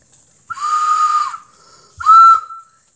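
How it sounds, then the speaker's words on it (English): A whistle blown in two bursts, a longer shrill tone then a shorter one, breathy and loud, with a pause between them. "This is a whistle."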